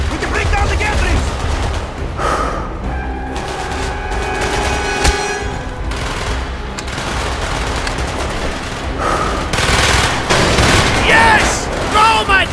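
Rapid gunfire bursts and booms sound in a Call of Duty: Black Ops battle aboard a ship, with automatic weapons rattling almost continuously and louder bursts near the end, while voices shout over the shooting.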